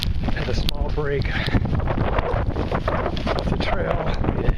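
Strong wind buffets the microphone outdoors at Hagg Lake on a cold, rainy day, a steady loud roar throughout with a person talking over it.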